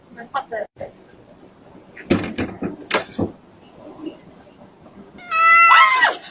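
Excited voices talk loudly, then near the end comes a sustained, harmonic cry rising and bending in pitch, like a kitten's meow, loud and close.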